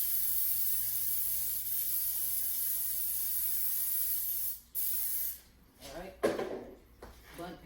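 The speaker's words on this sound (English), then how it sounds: "It's your bundt pan. Spray it." A steady hiss of aerosol cooking spray into a bundt pan runs for several seconds, then stops, followed by a few short clattering handling sounds.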